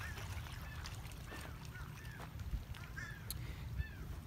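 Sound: seagulls calling at a Florida beach

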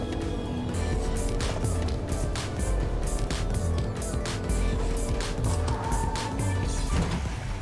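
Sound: pickup truck driving, likely in a video game

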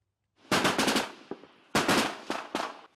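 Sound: gunfire from shelling in war news report

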